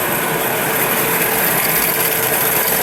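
Bar-fed machines churning steadily in a machine shop, a loud, dense, unbroken mechanical whir and hum that holds constant throughout, with no voices.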